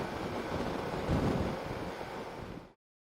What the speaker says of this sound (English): there's a heck of a very strong wind blowing as well